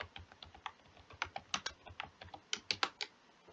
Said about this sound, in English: we'll just type out the competitions list